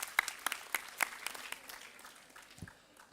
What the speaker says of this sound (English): Another round of applause for our graceful and energetic performers.